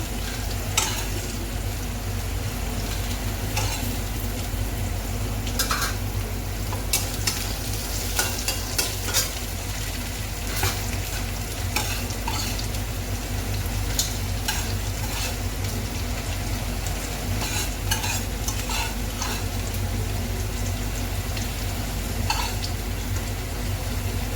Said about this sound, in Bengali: এবারে আলু ঝিঙাটা ভালো করে ভাজবো একটু ভাজা ভাজা হবে